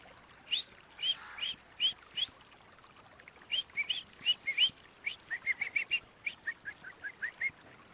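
Himalayan or black-headed bulbuls mob a hidden bird of prey, giving a rapid series of sharp, fairly loud calls in short bursts that quicken toward the end, with faint wing flaps in between.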